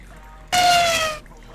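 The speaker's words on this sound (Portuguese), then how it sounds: "Tá caindo água nele." Water pours in a short, steady gush down the cascade of a toy science-station playset with a colour-changing toy car, fairly loud and close for under a second before stopping.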